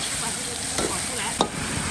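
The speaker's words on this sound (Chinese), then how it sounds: "把这个猪炒出来" Pork stir-fried in a wok with chili and tomato, a loud continuous sizzle with a couple of sharp scraping stirs, no talking.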